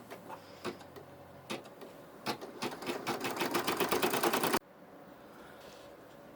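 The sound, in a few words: sewing machine stitching the outline of a fabric bear leg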